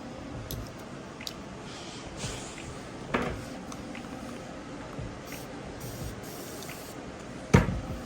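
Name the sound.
spraying the grooming brush with spray bottle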